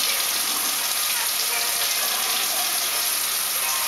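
Continuous close splashing and rushing water from a small child sitting and playing in water with little cups, steady and fairly loud throughout.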